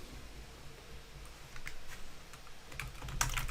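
Fast typing on a computer keyboard, a soft, irregular patter of key clicks near the microphone that builds into a denser, louder burst of keystrokes toward the end, with no talking.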